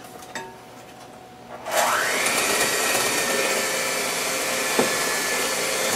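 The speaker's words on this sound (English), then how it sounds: "let's take the creamy chocolate and milk mixture and start blending it in with the cream, sugar," A blender kicks on after a quiet moment and runs steadily, whirring loudly and close as it mixes a creamy chocolate and milk mixture with cream, sugar and egg for chocolate ice cream.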